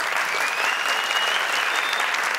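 Steady, dense applause from a studio audience on an Afghan Family Feud-style game show, loud and continuous across the whole moment with no break.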